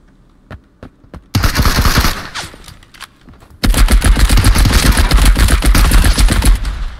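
Gunfire in the Marauders video game: a few sharp isolated shots, then a loud burst of rapid automatic fire, a pause with scattered shots, and sustained heavy continuous firing to the end.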